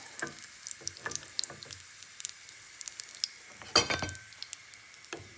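Prawn and chive dumplings frying in a pan, a soft crackling sizzle with scattered pops and one sharper burst midway, heard up close without any talking.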